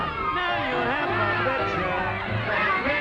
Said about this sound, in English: crowd stopping to watch